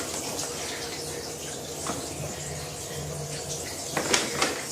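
Aquarium sand being washed by hand in water, a soft, continuous swishing and sloshing heard up close and fairly quiet, with a few brighter splashes near the end.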